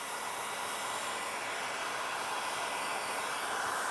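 Heat gun blowing hot air onto a 3D-printed enclosure part, a steady loud broadband whoosh that stays constant close to the microphone with no talking.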